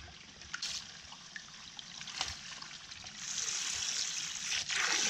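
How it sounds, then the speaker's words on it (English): Tap water runs over foraged autumn olive berries in a container, a soft trickling and gurgling stream at close range that grows fuller and steadier partway through. "I've been letting the water run for a little while"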